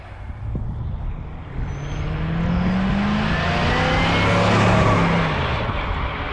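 A 1979 Lil Red Express truck with a tweaked carburetor pulls away hard, its engine revving up in a rising, swelling roar that peaks loudly nearby and then eases slightly as it drives off.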